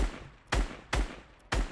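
Gunfire in Fortnite, three sharp, loud reports spaced roughly half a second apart, each with a quick decaying tail, no talking over them.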